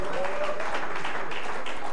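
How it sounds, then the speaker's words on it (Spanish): A church congregation claps in praise during a service, a loud, dense burst of applause with voices mixed in among the crowd. "Dele un aplauso al Señor en esta mañana o ya en esta tarde"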